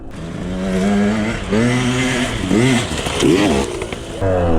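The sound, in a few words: KTM 125 enduro motorcycle riding off-road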